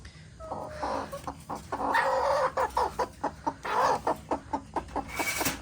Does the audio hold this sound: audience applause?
no